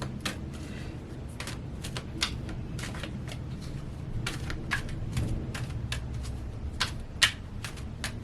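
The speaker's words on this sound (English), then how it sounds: "we're going to pull a few more cards and wrap it up" Tarot cards are shuffled by hand in a quick, irregular run of crisp riffles and flicks, close and fairly quiet, with no talk.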